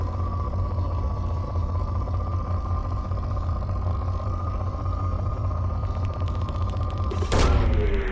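Probe launch in the video game Mass Effect 2: a steady low electronic hum with a sustained tone runs throughout, then a sudden loud whooshing burst near the end as the probe fires off.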